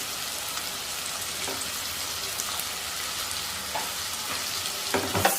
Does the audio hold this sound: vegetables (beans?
yes